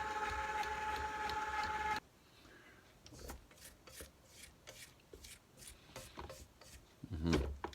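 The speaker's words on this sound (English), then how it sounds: "We're gonna slowly mix this all in." Cocoa powder being stirred slowly into buttercream icing in a bowl, a steady mixer-like hum for two seconds giving way to soft scraping and rubbing strokes, close and fairly quiet, with a louder knock near the end.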